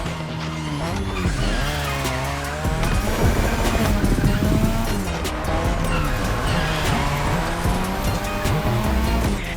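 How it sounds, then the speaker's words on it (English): In the video game The Crew Motorfest, a car drifts around a drift track: the engine revs rise and fall repeatedly while the tires squeal loudly and continuously, close up, with no break. "welcome to my playground,"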